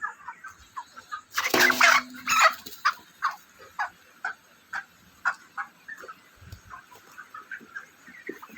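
Broiler chickens cluck repeatedly in a steady, close series, with a brief louder flurry of flapping or squawking early on.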